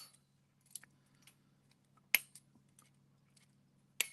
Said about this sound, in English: we're going to cut this out real quick